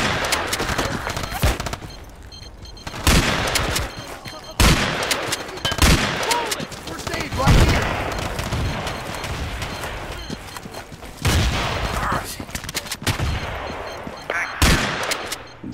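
Gunfire in Battlefield 2, with dense rapid bursts and repeated loud close shots that nearly fill the stretch, over a constant battlefield din.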